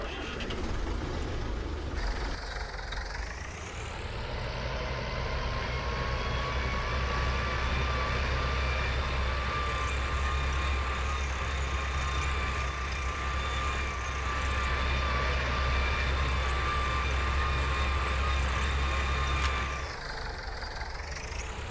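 A Valtra tractor drives in Farming Simulator 19, a steady loud engine drone with a deep low hum and whining tones that rise as it starts off and hold evenly for about twenty seconds, with no talk.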